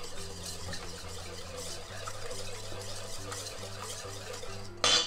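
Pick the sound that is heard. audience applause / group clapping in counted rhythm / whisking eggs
whisking eggs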